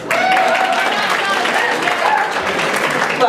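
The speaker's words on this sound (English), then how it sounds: "Clap yourself. It's okay." Wedding guests applaud during a reception toast, a dense, steady round of clapping from the room that holds at full volume, with some voices mixed in.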